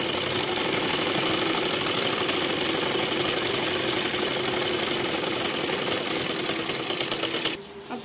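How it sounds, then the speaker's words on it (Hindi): A sewing machine stitches through salwar fabric in a steady, rapid mechanical whirr for about seven seconds, then stops abruptly. "तीनों को बिल्कुल एक साथ रखते हुए तीनों के ऊपर सिलाई लगा लेंगे।"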